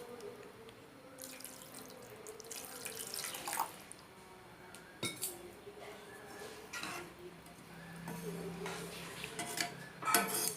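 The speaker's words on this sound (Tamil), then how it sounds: "இப்போ இதில் கொஞ்சோண்டு தண்ணி ஆட் பண்ணிக்கலாம்." Water splashes and trickles into a pan of sautéed drumstick leaves, soft and close, with small clinks and drips scattered through a quiet kitchen.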